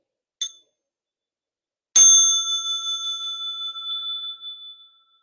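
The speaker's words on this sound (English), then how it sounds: "Small bell for stretching and massage." A small meditation bell is tapped once lightly, then struck firmly, ringing out with a clear sustained tone that slowly fades over several seconds in a quiet room.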